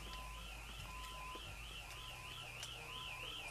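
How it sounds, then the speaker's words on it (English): A warbling electronic store alarm wails steadily in a rising and falling cycle during looting, heard at a moderate distance over a low background hum. "Alarms going off and everything"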